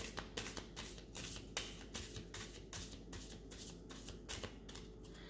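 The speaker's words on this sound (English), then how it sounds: "So let's start by clearing the deck, as always." A deck of reading cards is shuffled close up, producing a rapid series of crisp riffling bursts in an even repeating rhythm, quiet and heard alone.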